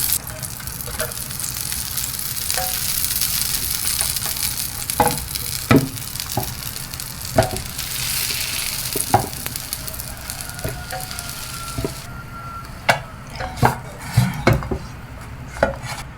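Bread toasts in butter in a frying pan with a continuous close sizzle, broken by sharp clinks and scrapes of a utensil against the pan.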